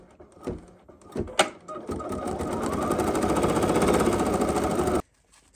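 An embroidery machine stitches a design in white thread, a fast, steady mechanical whirr after a few clicks and knocks, running loud and close before stopping abruptly.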